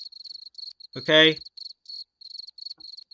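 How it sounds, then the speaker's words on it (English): Cricket chirping sound effect played over a live stream, a steady rhythmic series of short chirps running throughout, briefly interrupted by one spoken word. "Stop with the fucking crickets"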